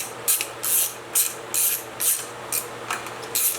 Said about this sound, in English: Hope my heater in the background's not making a ton of noise.